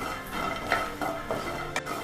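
Half a cup of peanuts roasting in oil in a pan for Navaratri prasadam, with a few scraping stirs and light clinks of a spoon against metal over a low steady background.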